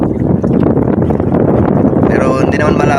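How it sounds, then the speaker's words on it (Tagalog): Strong sea wind buffeting the microphone on a boat during a morning fishing trip, a loud, rough, constant rumble, with a person speaking under it. "napakalakas ng hangin"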